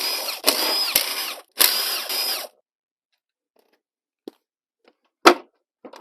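Two bursts of a power drill backing out bolts on a Honda TRX700XX stator cover, each about a second long and loud, followed by silence and a few faint clicks and clatters of parts.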